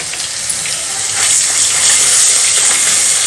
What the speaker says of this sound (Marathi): आलं लसूण कोथिंबीर थोडीशी परतून घ्यायची आहे